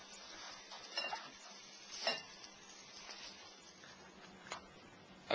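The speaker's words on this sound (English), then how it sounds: "You can hear that sizzling." Quiet, steady sizzling of food frying in a hot pan, with occasional clinks of a utensil against the pan.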